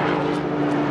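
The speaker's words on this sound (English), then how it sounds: "Sorry about the helicopter." A helicopter passes overhead with a steady, loud rotor-and-engine roar that fills the moment, no speech over it.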